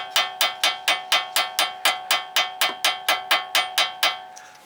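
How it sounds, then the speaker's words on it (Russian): A hammer taps a nut on a car, a steady series of about eighteen sharp metallic knocks at an even quick rhythm, close and clear with no talk. "Простукиваем гайку вот таким вот образом."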